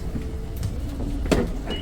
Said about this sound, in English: Taking the bus to Nijo Castle.